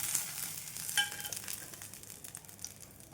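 Green chillies fry in a pan, giving a steady, faint, close sizzle with soft crackles and a brief stir clatter near the start. No voices are heard.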